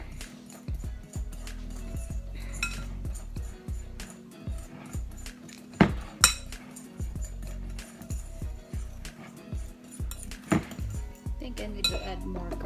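A spoon scrapes and clinks against a bowl while spices are mixed together for fried okra, giving irregular close taps and scrapes with a few sharper knocks over a quiet kitchen background.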